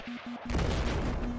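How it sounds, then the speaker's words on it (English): An A-10 Warthog's rotary cannon firing in Battlefield 4: a dense, continuous burst of rapid gunfire that swells from a few short tonal bursts into a loud, sustained roar lasting over a second. "Those nice, accurate A-10 cannons."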